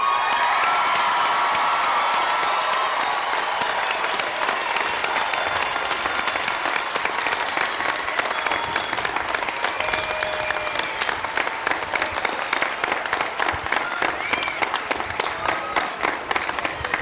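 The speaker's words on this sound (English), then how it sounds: "with a round of applause" Graduation commencement crowd at a 2013 college spring ceremony breaks into sustained, dense applause with scattered cheers and whoops, steady and loud throughout, without speech.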